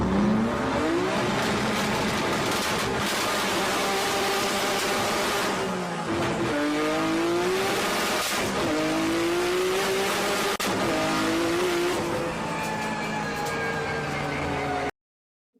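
A car launches from a burnout on an uphill track, its engine revving hard over a continuous roar and tire squeal, with pitch climbing and dropping through a sluggish launch and a missed gear shift. It is loud, close, and cuts off abruptly at the end.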